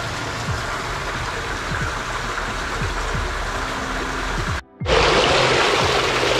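Heavy rain falls on an outdoor plaza, a dense, steady hiss with low rumbling passes from distant traffic, briefly cut off near the end before resuming slightly louder.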